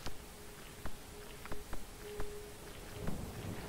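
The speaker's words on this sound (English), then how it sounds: "Look, it's raining again!" Rain and thunder in the Terra Nil video game, a constant hiss of rainfall broken by several short, sharp crackles, with faint soft rumbles near the end.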